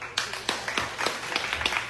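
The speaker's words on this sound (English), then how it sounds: "Big round of applause." A small audience claps for an introduced guest, a brief burst of scattered individual claps at close range, fairly loud and uneven.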